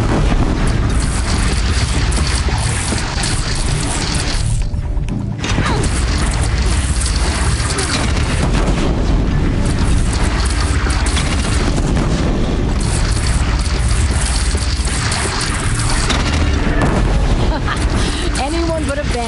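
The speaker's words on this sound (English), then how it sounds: "They only have one cannon!" Cannon fire and booming blasts in the video game Horizon Zero Dawn, loud and dense with repeated explosive bursts throughout, mixed with game voices and battle noise.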